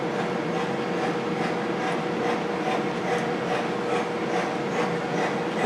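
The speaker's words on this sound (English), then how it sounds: "the smoke unit now will continue to operate even though if I stop the train" A smoke unit runs on a new Lionel American Flyer Polar Express model locomotive standing still on the track. It gives a steady, close whirring hum with an even hiss that holds unchanged throughout, and no one speaks.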